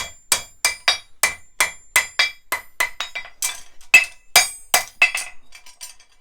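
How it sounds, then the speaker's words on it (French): A hot Mustad horseshoe branch is hammered back into shape, roughly twenty sharp ringing metallic strikes in a fast, fairly even rhythm, close and loud with no talking. "j'en profite que ma branche soit chaude pour remettre un peu en tournure"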